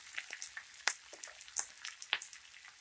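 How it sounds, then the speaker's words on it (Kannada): Onions fry in a pan for matar paneer, a soft sizzle with scattered sharp crackles and pops, close and fairly quiet. "ಈರುಳ್ಳಿ ಸ್ವಲ್ಪ ಕಲರ್ ಚೇಂಜ್ ಆಗಬೇಕು, ಅಲ್ಲಿ ಗಂಟ ಫ್ರೈ ಮಾಡ್ಕೊಳ್ಳಿ"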